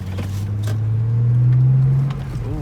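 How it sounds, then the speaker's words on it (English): A BMW 335i's turbocharged engine hums from inside the car as the turbos spool, the low drone swelling and rising in pitch for a couple of seconds before dropping back, with no talking. "I hear them turbos, bruh. Spooling."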